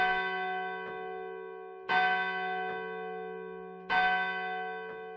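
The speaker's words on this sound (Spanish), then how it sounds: "En el momento en que se oían las campanadas de la hora" A church bell tolls the hour in three slow, ringing strikes about two seconds apart, each with a long humming decay, moderately loud with no voices.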